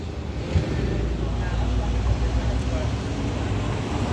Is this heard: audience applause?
no